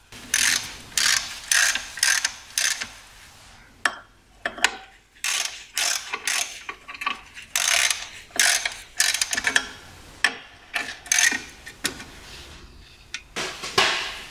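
Ratchet wrench snugging bolts during a clutch replacement on a Skoda Felicia or Volkswagen Caddy, quick bursts of rapid clicking repeated many times with brief pauses between, close and clear, no voices.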